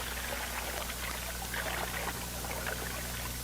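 Water pours and splashes steadily to wash M16A1 rifle parts in the field, a continuous hissing rush held close with no pause.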